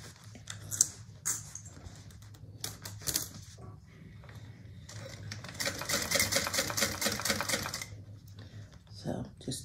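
A sewing machine stitches a curved bag seam at a long stitch length, running in bursts of rapid, close mechanical chatter with pauses between, under intermittent talk.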